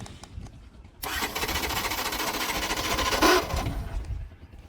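A two-year-old Yamaha Saluto 125 motorcycle starting: a brief quiet lead-in, then the engine catches at once with a loud, steady buzzing putter that runs for about three seconds at close range before dropping back.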